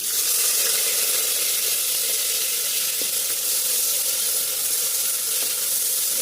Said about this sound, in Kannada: ಈರುಳ್ಳಿ ಇವಾಗ ಫ್ರೈ ಆಗಿದೆ